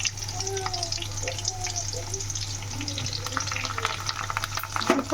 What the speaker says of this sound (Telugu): చూసారా మనం పోపు ఎంత చక్కగా వేగిపోయిందో